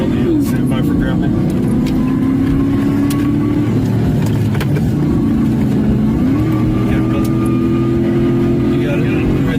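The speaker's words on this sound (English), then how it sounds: "The stolen van spins to a stop." A stolen van spins to a stop after a police grappler net wraps its rear tire in a high-speed chase, its engine droning loudly and steadily with pitch dips and swells, close and continuous.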